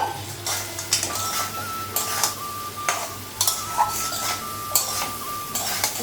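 Soybean chunks are stirred in a frying pan with repeated scraping strokes of a metal spoon against the pan over a continuous low sizzle, heard up close with no talking.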